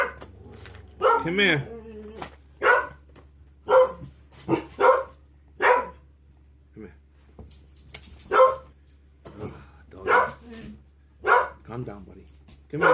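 Several dogs bark in repeated short bursts close by at a home during a Bosch GXL18V-233B25 drill unboxing, with a man calling to them between barks over a steady low hum.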